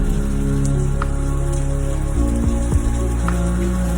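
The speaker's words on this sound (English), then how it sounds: "I don't know why I thought it was a good idea to go out in the rain." Steady outdoor rain patters continuously on surrounding surfaces during a rainy day, with a faint low hum beneath and a couple of slightly louder drips standing out.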